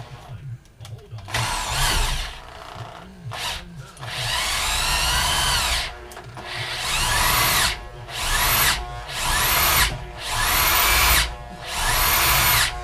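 A power drill whines in repeated bursts, revving up and down with short pauses between, close and loud, with no talking, during a 2005 GM 4T65-E transmission replacement.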